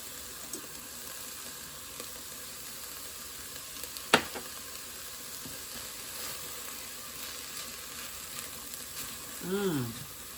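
Garlic, parsley and spices sizzling in a pan for vegan red beans and rice, a soft steady fry with a sharp clink of a utensil partway and a brief louder stir near the end.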